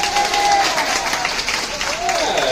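An audience at a live alligator show breaks into applause and cheering, a dense, loud wash of clapping with crowd voices mixed in throughout.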